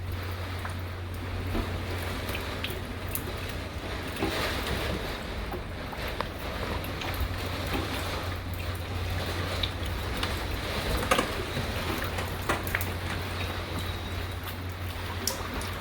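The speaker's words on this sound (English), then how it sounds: "we have water pouring in really from everywhere" Water pours and rushes into a house on Dauphin Island, Alabama during Hurricane Sally, a steady broadband wash mixed with wind buffeting and scattered splashes and knocks, continuous throughout with no talking.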